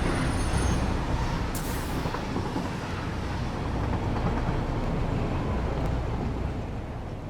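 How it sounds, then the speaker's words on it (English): A train pulls into a station in the factory-building game Satisfactory, a loud continuous rumble with a hiss of air brakes near the start, holding steady and close throughout. "here comes the train. Gonna make a lot of noise for a second."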